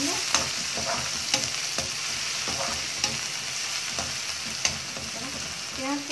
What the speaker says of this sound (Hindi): अब हम जो प्याज बारीक बारीक काट रखा था उसको डाल देते हैं, अच्छे से मिला देंगे।